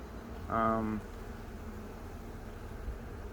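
Honey bees buzzing during a beehive inspection, one near bee droning past for about half a second against a quiet, faint background hum.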